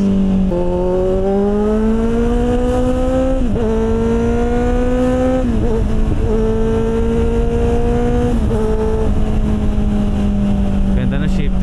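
A Kawasaki Z1000R big bike pulls away hard, its loud engine tone climbing steadily, dipping at each of several quick upshifts, then rising again, close and continuous throughout.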